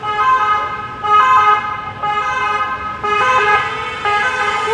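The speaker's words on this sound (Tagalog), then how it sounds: "ambulansya." An ambulance siren wails in a steady, repeating hi-lo pattern with strong harmonics, loud and continuous throughout, with its pitch stepping between tones every second or so as it passes nearby, and no talking.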